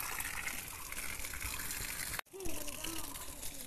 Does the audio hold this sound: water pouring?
yes